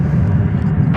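A jet airliner taking off at DFW Airport, a loud, steady close engine roar filling the whole moment with no speech.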